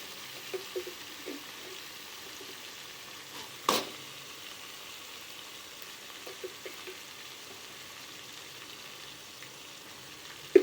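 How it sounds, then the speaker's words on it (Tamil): Cluster beans, seeni avarakkai, are stir-fried in a pan with salt, giving a faint, soft sizzle broken by occasional clacks of a spoon stirring, close by with no speech. "இப்போ இந்த சீனி அவரங்காயை இதில் போட்டுக்குவோம். இதை நல்லா கிளறி விடுவோம்."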